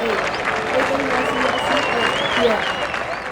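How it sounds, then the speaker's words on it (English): Applause rolls steadily through a casual golf-chat podcast, a continuous crowd clapping with voices threaded over it, holding at an even level for the whole stretch. "So, enough with the applause."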